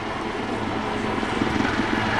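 A Royal Navy Black Cats display helicopter at Southport Airshow gives a steady, loud rotor and engine roar that fills the whole short stretch with a constant thrum.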